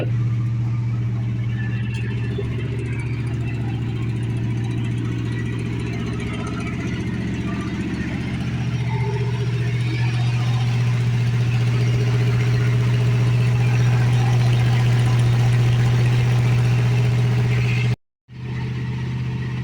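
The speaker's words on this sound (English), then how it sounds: "I'm gonna just let it high idle for a second. It's kind of obnoxiously loud" An old car engine, an Impala, Travelall or Charger just started after winter with a freshly filled carburetor bowl, runs at a loud, steady high idle with a constant low drone, close by, until an abrupt brief cutoff near the end.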